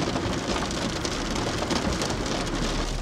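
Heavy rain pours during a tornado chase, a loud, dense, unbroken hiss of drops pattering on surfaces, with no voices.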